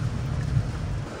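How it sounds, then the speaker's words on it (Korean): Heavy rain roars steadily during a thunderstorm on Jeju Island, with a deep low rumble of thunder rising briefly near the middle of the short stretch. "여기 왜 이렇게 천정번개가 세?"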